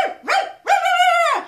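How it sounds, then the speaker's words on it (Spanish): An excitable dog barking close by: two quick yaps followed by a longer, drawn-out bark, alone with no talk. "Y además ladraba a diestra y siniestra."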